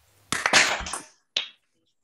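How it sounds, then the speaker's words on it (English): Seminar audience clapping together on a count of three in a reverberant room: a ragged burst of many hands for about a second, then one late single clap after a short gap. "if you humor me and with me to the count of three, we all clap"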